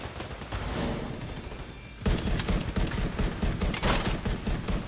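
Dense automatic gunfire rattles continuously in The Division 2, a softer volley at first, then a louder, closer stretch of rapid overlapping shots.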